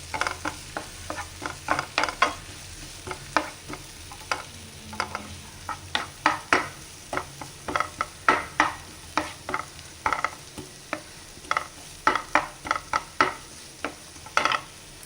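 Sliced onion and sesame seeds frying in a pan with a pinch of salt, with a soft continuous sizzle broken by frequent sharp scraping and stirring strokes in an irregular rhythm, close by and with no talking.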